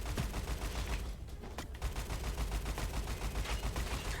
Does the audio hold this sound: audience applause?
no